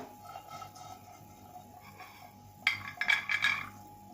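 Roasted cashews for chikki being scooped from a pan into a small bowl, with faint scraping at first, then a louder burst of close clinking and rattling of metal and nuts near the end.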